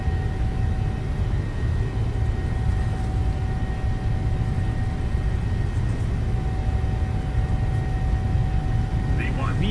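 Simulated Southwest Airlines Boeing 737 jet engines during a takeoff roll in Microsoft Flight Simulator, a steady, loud low roar with a faint high whine running throughout.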